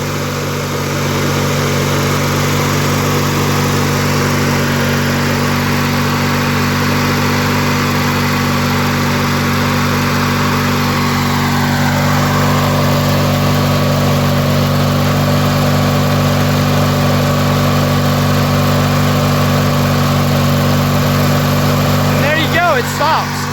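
A Montgomery Ward lawn tractor engine idles steadily and loudly while its mower deck disengages, a whining tone sliding downward as the blades spool down, ending with a few brief clicks.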